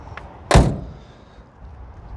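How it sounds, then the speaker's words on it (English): A 1950 International truck door is shut with one solid, heavy metal clunk, close and loud, then a short fading ring against quiet background noise. "listen to the clunk of the doors when I shut the door here."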